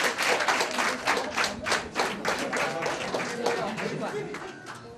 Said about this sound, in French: On les applaudit, non?